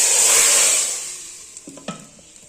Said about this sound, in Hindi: मक्खन थोड़ा सा मेल्ट हो जाएगा और ये लहसुन गोल्डन हो जाएगा, फिर हम इसका तड़का लगाएंगे।